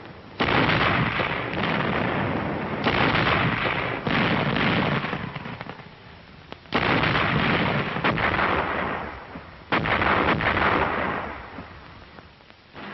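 An artillery barrage fires and shells burst ahead of waiting infantry. Heavy, rumbling roars come in several long surges a few seconds apart, loud and continuous with brief lulls between them.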